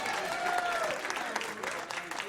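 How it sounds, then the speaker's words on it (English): Guests clap in a round of applause for a game winner at a baby shower, fairly soft and close, with a brief whistle or voice rising over the clapping. "Let's give him a round of applause."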